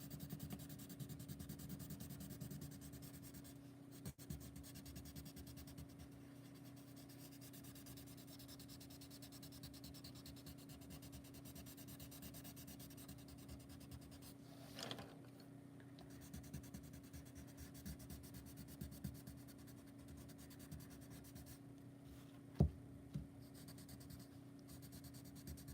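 A blending pencil rubs over colored pencil on paper during an adult coloring lesson, a soft, continuous scratchy whisper with a few brief clicks, quiet and close.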